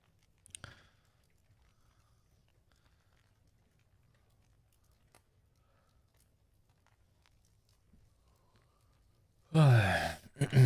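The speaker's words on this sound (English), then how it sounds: "Sorry about the yawning all the time, but I'm very tired" A tired person yawning late at night: a long drawn-out breathy yawn rises near the end after a mostly quiet stretch, with a brief breath sound early on.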